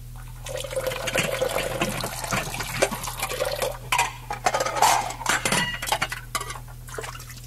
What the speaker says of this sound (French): Oui, une cuisine.